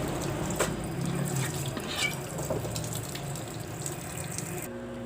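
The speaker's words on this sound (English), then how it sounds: "we're going to wash our knife" A kitchen tap runs steadily while a knife is rinsed under it, a continuous close splashing with small drips and clinks that stops abruptly at the end.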